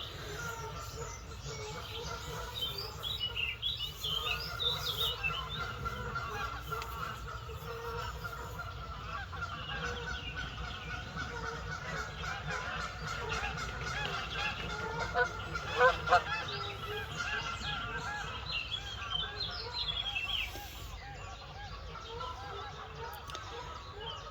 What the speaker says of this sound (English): The geese have gone crackers.